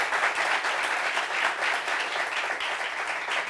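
A seated audience applauds a guest's mother with a steady, moderately distant wash of clapping that holds evenly throughout.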